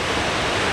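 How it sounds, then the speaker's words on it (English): Ocean surf rolls onto a beach at the Nordhouse Dunes Wilderness, a close, steady roar of breaking waves filling the short moment with no voices. "Look at this surf coming in."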